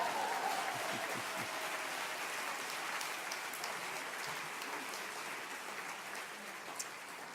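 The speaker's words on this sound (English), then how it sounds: "so I want applause for this moment" An audience at an arts and politics conference claps in a soft, steady wash of applause heard from a distance, with no clear individual claps standing out.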